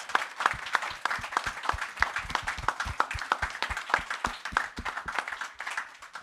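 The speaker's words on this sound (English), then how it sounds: "join in another round of applause for this wonderful campus" A modest audience at a public talk on creating shelter claps with distinct, separate hand claps, fairly quiet and uneven, sounding like a small group rather than a large crowd.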